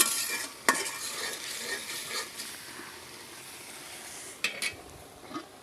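Onion and ground spices stir-frying in hot oil as a masala base for a fish and raw papaya curry: a steady close sizzle and hiss, broken by a few sharp spatula scrapes against the pan, with no voices.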